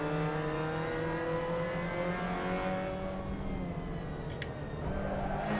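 Mazda MX-5 Cup race car engine in a VR racing game at Silverstone, droning steadily with harmonic engine tones that sag and shift as it downshifts under braking, loud and continuous throughout.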